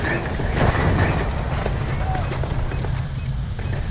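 Gunfire from the Solstice or Ember weapon in the Starfield video game, a dense run of rapid shots and booms that carries on without break, with someone talking over it.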